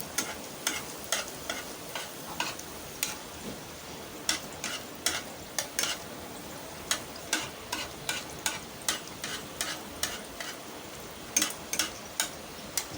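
An Old Dhaka-style crispy paratha fries in oil on a stove over medium heat, with a constant sizzle and a steady series of light, ticking taps and scrapes as it is worked in the pan, with no speech.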